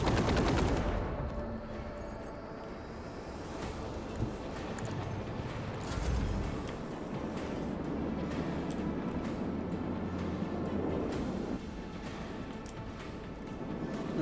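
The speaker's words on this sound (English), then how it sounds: "The torpedoes just go off into the distance and explode because they can't do shit" Torpedoes exploding in the distance in the video game Rogue Trader, heard as a continuous rumbling wash of blasts and crackle with a few heavier low booms mixed in.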